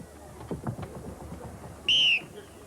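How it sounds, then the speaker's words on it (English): A single short, loud whistle blast signals the start of a strongman event at the 1990 World's Strongest Team competition, cutting in sharply after quieter background sounds and low talk. "On the whistle start"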